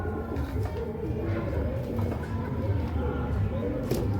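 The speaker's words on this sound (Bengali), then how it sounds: "এই হচ্ছে ওভারলুক পায়রাটা, সুপার কোয়ালিটি পায়রা" Pigeons in a loft, including a show-quality white bird, coo steadily in a low, continuous murmur beneath someone talking close by.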